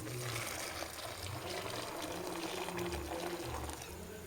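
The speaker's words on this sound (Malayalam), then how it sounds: "ഇതിലേക്ക് നമ്മൾ തിളച്ച വെള്ളം ഉണ്ടല്ലോ, അത് കുറച്ച് ഒഴിക്കുകയാണ് ചെയ്യുന്നത്." Boiling water pours steadily onto soya chunks with a continuous gurgling trickle, close by and fairly quiet, no voices.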